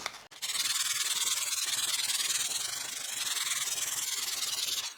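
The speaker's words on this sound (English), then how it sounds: "Now we will resort to sandpaper." Steady hand sanding of wood with 120 grit sandpaper on a scratch-built Telecaster guitar body, a continuous close rasping rub with brief pauses at the start and end, no talk.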